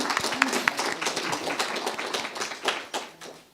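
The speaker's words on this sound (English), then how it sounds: "Let's give them a big round of applause." An audience claps for event volunteers, a short burst of scattered, moderately quiet applause that tapers off toward the end.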